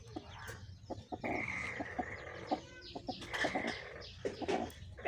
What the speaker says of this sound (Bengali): এই দেখেন কিভাবে আমার কুচে থাকা মুরগিগুলো খায়।